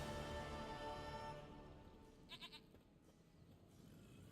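A goat bleats in The Witcher 3, a faint, distant tremulous call over quiet ambient background with a short higher wavering bleat in the middle.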